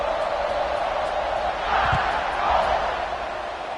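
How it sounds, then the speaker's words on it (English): A stadium crowd buzzes in a college football video game, a steady, dense roar that swells slightly midway, with commentary audible over it. "this crowd is buzzing after that last score"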